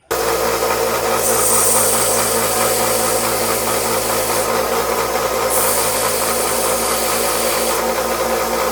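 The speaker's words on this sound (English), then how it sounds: "we're going to sand both of these pins down and get them flat and get them good and short too" A power sander grinds down the metal pins of a broken vintage knife, flattening and shortening them, in a loud, steady, continuous whir that holds for the whole stretch with no voices.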